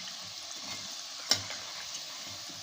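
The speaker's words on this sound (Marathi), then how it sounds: "आता बारीक गॅसवर थोडा वेळ सोनेरी कलर येईपर्यंत आपल्याला तळून घ्यायचं आहे" Bhagar (barnyard millet) vadas fry in oil over a low flame, a soft, even bubbling sizzle with one sharp pop midway, close and alone without talk.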